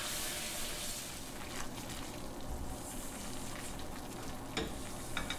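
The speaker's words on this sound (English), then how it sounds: "splattering a little bit here, and I'm going to add the flour now" Flour cooks in sizzling salted butter in a pan, a steady soft crackle with small splattering pops and an occasional stir, fairly quiet and close.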